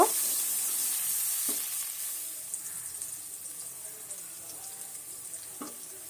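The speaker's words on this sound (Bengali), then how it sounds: "এবার পেঁয়াজ আর রসুনটাকে হালকা একটু ভেজে নিব" Chopped onion and garlic fry lightly in cooking oil, giving a soft, even hiss with a few faint clinks of stirring; it starts strongest and eases down a little as it continues.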